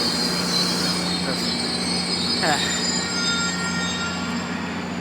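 A loud train rumbles steadily past close by, with metallic wheel squeal rising over the continuous roar.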